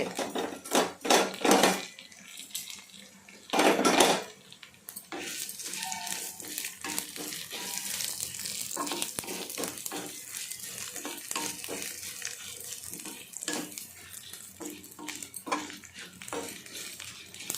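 Urad dal, cumin and dried red chillies frying in oil as a tempering, a continuous sizzle with metal spoon scrapes and clanks against the pan, loud bursts of stirring early on, then steady frying.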